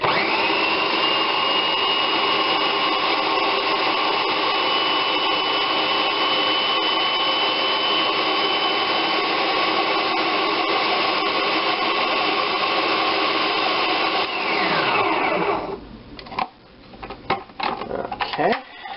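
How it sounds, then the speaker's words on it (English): A countertop blender runs on its puree setting, a steady loud whir with a constant pitch for about fifteen seconds before cutting off abruptly, leaving a few faint clicks and handling noises. "Now we take this and we put it on puree after we plug it in."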